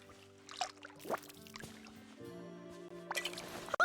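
Watering plants in Disney Dreamlight Valley game: soft splashing, dripping water sounds in a few bursts over gentle background music, fairly quiet and close.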